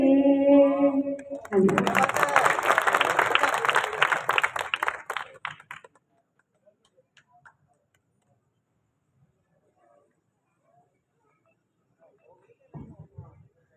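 Brief, fairly dense clapping from an audience at a Hindi poetry gathering follows a sung voice, lasting a few seconds before fading into near silence, with faint sounds later.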